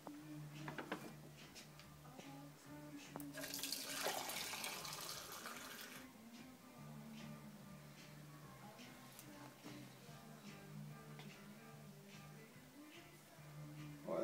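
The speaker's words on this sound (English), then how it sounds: "So let's pour a beer and see how it does." Beer pours and splashes briefly into a glass, a gurgling burst of a few seconds, followed by quieter room sound and a low hum.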